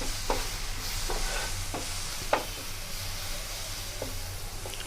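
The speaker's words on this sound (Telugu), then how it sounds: "ఒకసారి అంతా బాగా కలిపేసుకొని" A spice mixture with chilli powder for a fish dish is stirred in a bowl, giving a steady soft scraping with several distinct spoon knocks spaced through the mix, close and fairly quiet, with no talking.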